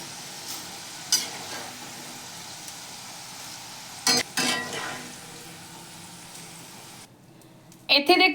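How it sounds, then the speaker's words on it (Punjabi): Potatoes fry in hot oil in a pan for a dry bitter gourd and potato dish, giving a continuous sizzle punctuated by a few sharp clanks of stirring. "ਹੁਣ ਆਪਾਂ ਆਲੂ ਜਿਹੜੇ ਆ ਇਹ ਫਰਾਈ ਕਰ ਲਈਏ"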